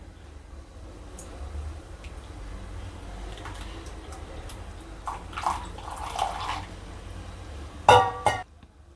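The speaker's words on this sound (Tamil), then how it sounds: "இப்போ இந்த தண்ணியை இந்த கிளாஸ் பவுலில் ஊற்றிக்கலாம்." Sugar syrup water is poured into a glass bowl in a kitchen, a soft steady trickle that builds into a brief splashy rush near the end.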